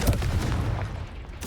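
Confringo blasting spell in a Harry Potter video game, a short burst of booming, gunfire-like blasts, close and punchy, lasting about a second and a half.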